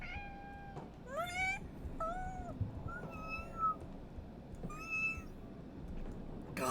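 A person imitates a cat with a series of faint meows, some rising and some falling in pitch, spaced out over steady background noise.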